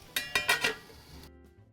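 A metal lid is set on a frying pan holding onions, garlic and broccoli, making four quick clinking knocks one after another, close and fairly bright, then a brief fading ring and silence.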